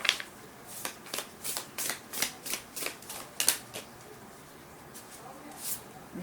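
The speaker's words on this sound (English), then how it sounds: "I'm going to select some more cards for you from the same deck" Tarot and oracle cards riffle and slide in quick bursts as they are shuffled and pulled from a deck, a close, papery flutter that fades toward the end, with soft background noise.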